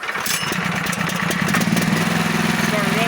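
Small 420cc gasoline engine on a trailer-mounted logging crane runs steadily and loudly at a rough, buzzy idle, close up, with a constant mechanical chatter throughout.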